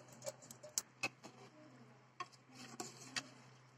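A spoon gently stirs chicken biryani rice in a pot over a low flame, giving quiet, irregular scrapes and soft clinks against the metal under a steady background hum.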